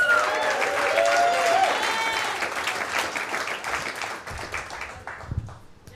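A comedy club crowd applauds and cheers a comedian, loud clapping that builds briefly and then tapers off toward the end with a few scattered claps.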